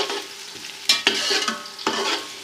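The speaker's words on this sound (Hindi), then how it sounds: "इसमें प्याज शामिल करती हूँ, इसलिए इसमें प्याज जो है वो हो रही है ब्राउन" Onions fry in ghee in a pan, giving a soft steady sizzle broken by a few louder stirring scrapes, close and fairly quiet.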